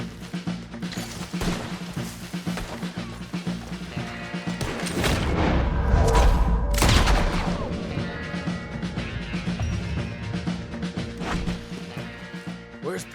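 A battle in Red Dead Redemption II at a fort's hillside cannon, dense gunfire with heavy booms and crashes, swelling to a loud rumbling peak midway before settling back into steady scattered shots.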